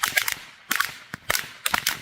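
Sharp gunshot-like cracks in quick irregular bursts, several loud snapping reports close by, each with a short bright tail, no voices.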